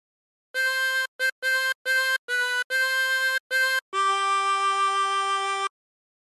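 A 24-hole tremolo harmonica plays a phrase of a song: seven short, separated blown notes in a quick rhythm, then one long held note with a wavering tremolo, clear and close.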